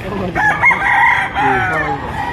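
Roosters at a chicken market crow loudly and close by, several overlapping drawn-out calls in quick succession with clucks mixed in.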